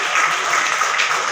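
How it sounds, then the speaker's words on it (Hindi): Dense, steady applause from an audience welcoming guests at an Ambedkar Bar Association event in Agra, loud and continuous throughout with no pauses. "तालियों से स्वागत"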